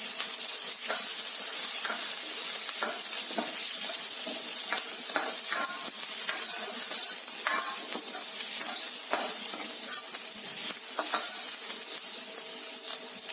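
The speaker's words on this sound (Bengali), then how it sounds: "এবার আমি ভাজা চিকেনগুলো দিয়ে দেব" Fried chicken pieces hiss and sizzle in a hot pan for street-style chili chicken with onions, a constant bright frying hiss broken by clattering stirring strokes, no voices.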